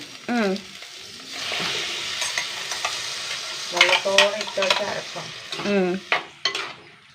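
Curry paste sautéing in a pan, with bursts of sizzling and scraping stir strokes while someone talks over it in Malayalam.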